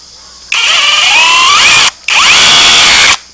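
An SDS hammer drill whirs loudly in two bursts, pitch rising as it spins up, with a brief pause between runs, used to drive a T-post.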